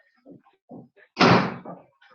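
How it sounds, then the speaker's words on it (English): A door swings shut indoors with one solid, close thud, framed by a few soft, brief voice fragments before and after. "I'm just going to shut the door"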